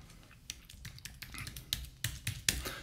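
Password keystrokes on a computer keyboard while setting up a Raspberry Pi, a quiet, irregular run of light clicks and taps, close by and with no voices.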